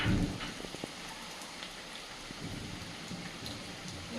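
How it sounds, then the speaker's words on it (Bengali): Heavy rain pours steadily as a dense, continuous hiss, with scattered drops and patters standing out close by. "বাইরে খুব জোর বৃষ্টি চলে এলো"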